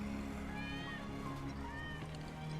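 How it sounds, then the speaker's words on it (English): Wedge's cat in Final Fantasy VII Remake gives a few drawn-out meows, thin and mid-distance, layered over a dense game soundscape of hum and background ambience. "That's Wedge's cat."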